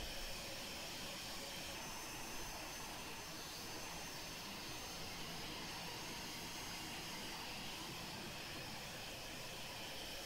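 Twin jet engines of an Eclipse 550 NG climbing in the X-Plane 11 simulator, a constant faint whine and broadband roar holding steady the whole time with no change in pitch.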